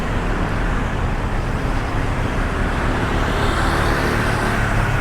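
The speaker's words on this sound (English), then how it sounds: "very nice of four-wheel vehicles to give way to me" Steady road traffic on a city street, with cars and four-wheel vehicles rumbling past continuously at close range for the whole stretch, no gaps and no voices.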